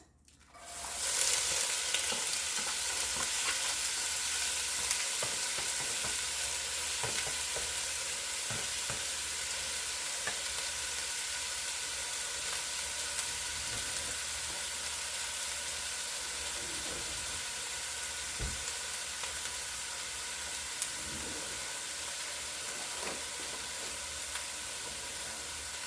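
Aromatics hit hot olive oil for a black bean soup, bursting into a loud, close sizzle that holds as a dense, steady frying hiss with faint crackles throughout, no voices.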